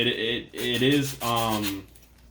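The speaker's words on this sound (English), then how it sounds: "we're just gonna sand this up, and then we're also gonna sand the side" Sandpaper rubbing along a wooden spar for an RC wing kit, three back-and-forth strokes with a squeaky, tonal scraping edge, close and fairly loud, with no talk.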